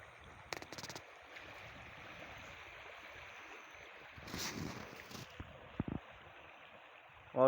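A swollen river in flood runs strongly, its steady broadband rush filling the whole clip with a few brief knocks and a louder swell near the end; no one speaks.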